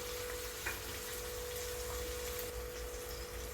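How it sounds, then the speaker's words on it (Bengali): Onion paste and masala frying in a pan for a Bengali katla fish kalia, a steady low sizzle and bubbling hiss throughout, with no talking. "এবার মশলাটা আমি ভালো করে কষিয়ে নিচ্ছি"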